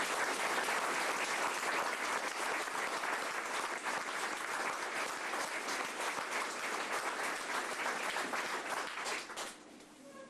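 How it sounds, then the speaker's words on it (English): Audience giving a sustained round of applause at a 1999 high school sports banquet in Ste. Genevieve, Missouri, dense steady clapping from a full room that tapers slightly near the end. "I'd like for you to give these young people a round of applause"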